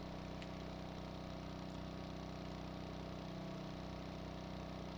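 A steady engine drone from a vehicle in the Stormworks video game, running at an even idle-like pitch throughout, constant and unvarying with no talking.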